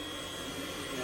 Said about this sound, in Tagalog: So they put blower on it so it can